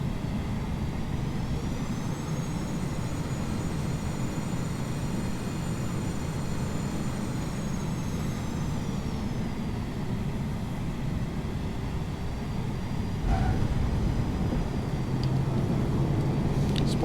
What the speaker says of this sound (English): Spoilers deployed and reversers engaged.